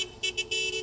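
A passing car's horn beeps several times in short bursts at a street meet-up of cars, with uneven gaps between the toots, fairly close and clear over low traffic rumble.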